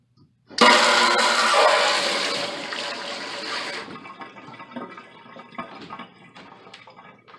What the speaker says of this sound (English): I'm actually going to open the valve and you can see water, hot water going through this water pipe.